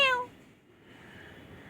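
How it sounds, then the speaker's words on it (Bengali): A pet cat lets out one short meow right at the start, close and clear, followed by faint room quiet. "মিয়াও খালি মিয়াও।"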